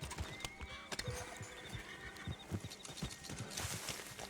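Horse hooves clip-clopping in Red Dead Online, a steady rhythmic trot of hoofbeats up close, with a faint whinny and background ambience.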